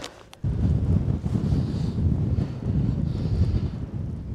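Wind buffets the microphone on a cold mountain summit at a volcano monument, a loud continuous roar with gusting swells that starts abruptly after a short quiet moment, with no voices.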